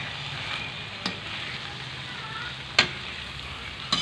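Buttered shrimp frying in a pan, a steady close sizzle broken by a few sharp clacks of stirring at irregular intervals, with no talking.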